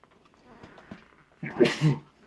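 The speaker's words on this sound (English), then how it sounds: "I had to sneeze there" A single sharp sneeze bursts out close by after a quiet stretch with faint rustling.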